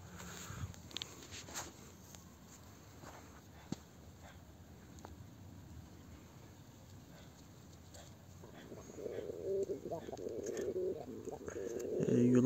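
Pigeons coo softly in their loft amid scattered shuffling and footsteps, with a louder burst of close activity near the end and someone talking throughout.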